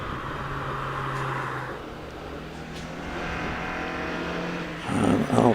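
A green Mazda MX-5 climbs the Prescott hillclimb at speed, its engine droning steadily at a distance before swelling louder toward the end, with a commentator talking over it.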